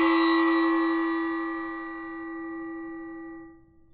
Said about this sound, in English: Hide your ears. Here it comes. Gong time